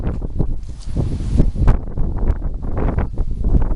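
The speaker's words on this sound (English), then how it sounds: "All of a sudden the wind is just really picking up." Strong wind blowing outdoors beside a house, gusting and buffeting the microphone with continuous rough rumbling and rustling throughout, loud and close.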